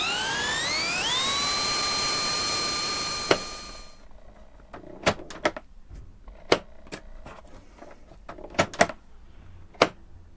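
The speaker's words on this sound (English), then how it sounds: "Can we just close the door now?" A camper van's sliding door, newly cladded, slides shut with a rising whir that ends in a sharp latch thud, followed by scattered clicks and knocks in a quiet space.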